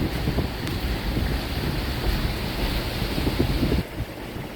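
Rushing river water on the Big Piney crossing along the Ozark Highlands Trail, a steady broadband churn with wind buffeting the microphone, continuous and fairly loud throughout with no voices.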